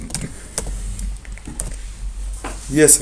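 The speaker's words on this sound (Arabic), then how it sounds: "نكتب له بار اكزومبل ياسر" Keys clack on a computer keyboard in short bursts as a name is typed, close and fairly loud, with a low steady hum underneath and a brief higher tone at the end.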